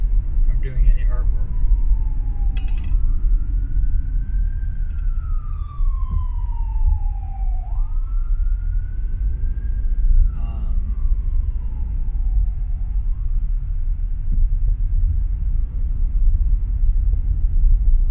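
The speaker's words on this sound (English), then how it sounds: "ambulance just passed" An ambulance siren passes by, its wailing tone rising and falling in long slow sweeps over a steady low traffic rumble. It is heard over roughly four cycles.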